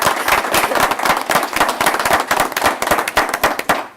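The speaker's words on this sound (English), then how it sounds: "Graham a round of applause" An audience applauds Ms. Graham at a school board meeting, a loud, dense burst of sharp hand claps that runs steadily throughout without voices.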